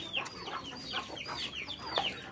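Chickens cluck in a village yard, a steady run of short, close clucks repeating every fraction of a second with no talk over them.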